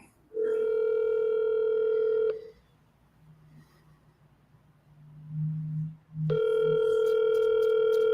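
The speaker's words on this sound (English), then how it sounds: "Let me go ahead and punch in his direct number, and we'll see what happens." A desk telephone plays a steady dial tone, goes quiet while a direct number is punched in, with a brief low hum, then the loud tone returns, all close and with no talk.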